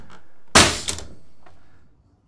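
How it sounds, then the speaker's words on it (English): A single hammer strike drives a nail into an interior split door jamb during installation, a sharp close thunk with a short bright ring and a faint follow-up tap. "I'll put one more nail right here."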